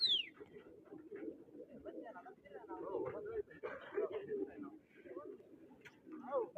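Pigeons coo softly in repeated low calls at a pigeon-flying contest, faint and somewhat distant, with other bird chirps mixed in and people talking over them.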